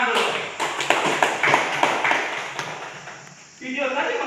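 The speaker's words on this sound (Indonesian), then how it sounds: "Oke, tepuk tangan dulu." An audience claps its hands together in a lively run of dense, overlapping claps that carries on for several seconds, fairly loud and close, before easing off as a voice starts speaking near the end.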